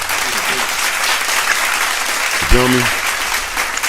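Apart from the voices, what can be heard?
applause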